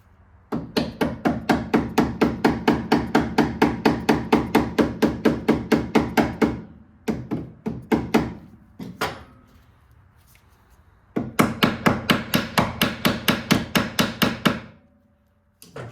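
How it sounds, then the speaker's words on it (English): A hammer repeatedly bangs a peg into the rear floorboard mount of a 2009 Police Special motorcycle, loud close metallic strikes in fast steady bursts, then a few separate hits, a pause, and another rapid run. "once I start banging the peg in place, it will straighten that washer"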